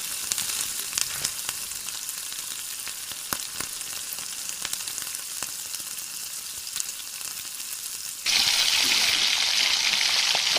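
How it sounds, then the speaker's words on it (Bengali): Cumin and mustard seeds sizzling in hot oil in a home kitchen, heard as a steady bright crackling hiss with scattered pops. Near the end it jumps to a louder, fuller roar. "দিয়ে দিলাম কিছুটা জিরে ফোড়ন আর দিয়ে দিলাম কিছুটা সর্ষে ফোড়ন"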